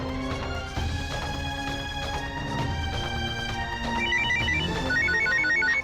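A phone ringtone plays a repeating melodic electronic pattern for an incoming call from dad, steady and clear with no talking over it.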